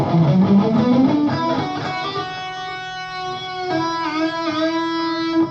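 Sustained electric guitar notes bent down and back up with the whammy bar in a couple of gentle dips, ringing clearly with no voices, from a song's guitar solo.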